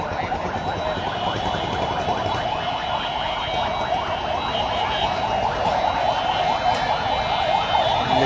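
Police car siren on a street, a loud continuous warbling wail repeating in rapid cycles, steady and fairly close for the whole stretch.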